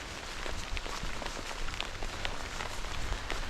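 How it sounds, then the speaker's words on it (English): Heavy, cold rain pattering steadily on a tarp shelter in the mountains during a tropical storm, a dense continuous hiss with scattered drop hits, close and moderately loud, no talking. "This is a very cold rain, folks, no doubt about it."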